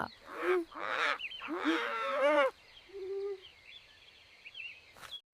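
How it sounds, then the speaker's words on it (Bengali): Loud honking, lowing animal calls in a few bursts, then quieter drawn-out calls over a faint hiss; the cries sound close and strained. "নাইটবার্ডদের ডাক ভরিয়ে দিল হাওয়া"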